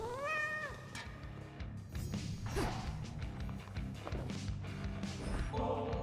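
A cat meows in the video game Hades II, a rising, drawn-out call at the start over busy game music and effects, followed by softer clatter and thumps.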